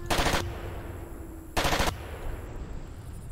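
Two loud bursts of rapid Gatling gun fire in the Far Cry video game, each lasting about a third of a second and separated by a short pause, with low rumbling ambience in between.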